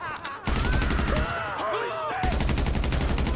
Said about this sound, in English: start shooting inside